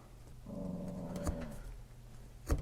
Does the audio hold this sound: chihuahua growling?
yes